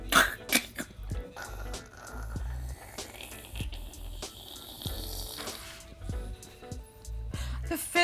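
A person imitates a soda being poured, making hissing, fizzy mouth noises with bubbling bursts in an uneven rhythm. The imitation is moderately quiet and close, and ends with a bubbling-up effect.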